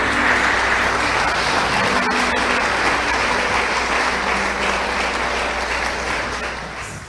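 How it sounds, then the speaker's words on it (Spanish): A church congregation gives loud, sustained applause, dense and even throughout, tapering slightly at the end. "Den un aplauso fuerte al Señor."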